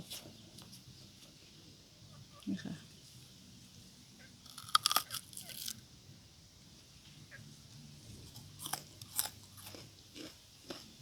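Crisp crunching bites into a fresh Mae Jo 36 date fruit, a few sharp close crunches and chewing sounds over quiet outdoor background with faint birds.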